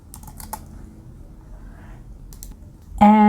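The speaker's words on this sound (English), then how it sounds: "The first thing you have to do is to type in" Someone types on a computer keyboard, with quick bursts of close key clicks near the start and again later, separated by quiet moments. A voice begins at the very end.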